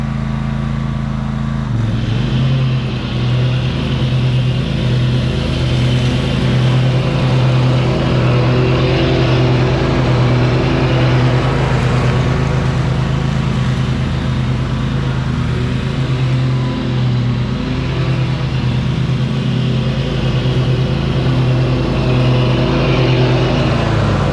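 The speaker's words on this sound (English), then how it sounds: "I might run out of gas, but I'm gonna go ahead and try to cut the grass" A Gravely zero-turn mower with a swapped engine runs steadily while cutting grass, a constant loud engine drone with a low hum that holds throughout.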